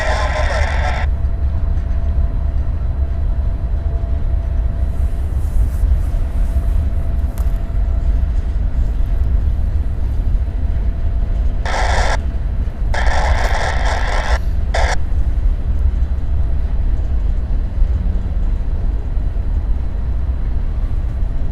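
A Norfolk Southern freight train rumbles past at the south end of Debutts Yard in Chattanooga, a loud, continuous low roar with metallic scraping and occasional higher squeal bursts throughout.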